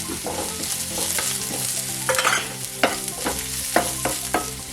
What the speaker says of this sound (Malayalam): ഇതിപ്പോ ഉള്ളിയും പച്ചമുളകും കരിയാപ്പിലും എല്ലാം മുരിഞ്ഞിട്ടുണ്ട്